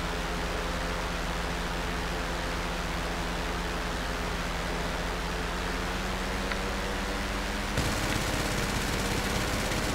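Sustained machine-gun fire from a P-45 Nokota fighter plane in GTA, shooting tracer rounds as a dense, steady roar of rapid shots that shifts slightly near the end.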